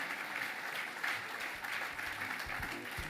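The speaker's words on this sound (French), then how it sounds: "Et je vous propose de les applaudir." An audience applauds municipal councillors at a New Year's greetings ceremony, a steady, fairly distant roll of many hands clapping with no talk over it.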